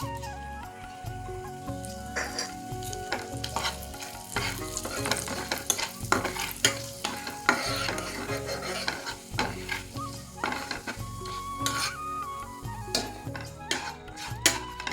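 Whole cumin, cinnamon, cardamom, cloves, black pepper and garam masala fry in hot oil with a busy, crackling sizzle and repeated stirring scrapes, close and fairly loud.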